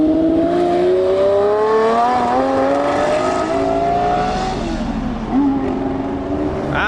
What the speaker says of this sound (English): oh, there's a McLaren P1 leaving